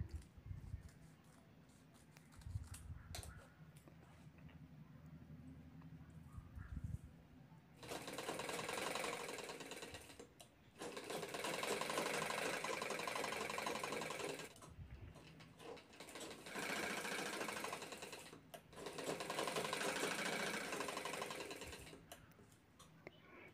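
A sewing machine stitching a zipper onto a fabric strip for a sling bag: after a quiet, shuffling start, three long bursts of rapid mechanical whirring and clatter, separated by brief stops, close up.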